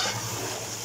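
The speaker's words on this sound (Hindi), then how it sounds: "आलू मेरे जो है वो भुन रहे हैं" Potatoes fry in a pan in a home kitchen, giving off a steady, close sizzle with a faint stirring texture in a short burst.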